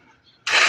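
A motorcycle engine starting on its push-button starter, a sudden loud burst of engine noise catching after a brief quiet moment, close by.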